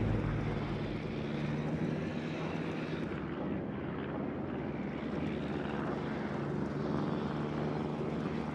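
A fighter plane's propeller engine drones steadily as it takes off in the naval battle game World of Warships, a continuous moderately loud roar that dips briefly midway, with no voices over it.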